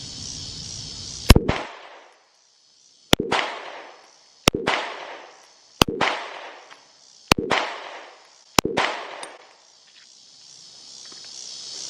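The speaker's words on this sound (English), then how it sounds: "But I feel like I'm shooting my gun still." Six sharp gunshots from a Smith & Wesson Shield pistol ring out at an outdoor range, evenly spaced about a second and a half apart. Each is loud and close, with a brief echoing tail, and insects chirp faintly in the background.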